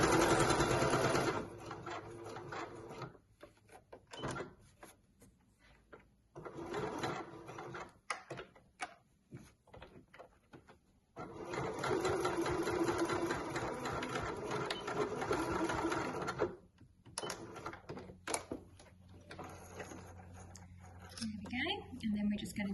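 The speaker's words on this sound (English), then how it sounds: "And I'm just doing it by eye, sewing along that fold." A sewing machine stitching along a fabric fold while making a baking apron, running in long steady buzzing stretches broken by pauses, with someone speaking in the gaps and over it.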